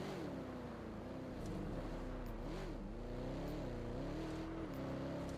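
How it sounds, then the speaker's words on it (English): An engine drones steadily from a vehicle driven in the video game Helldivers 2, a continuous rumbling hum that rises and dips slightly in pitch as it moves, with no talking. "we're going to run into the car and we're going to drive around"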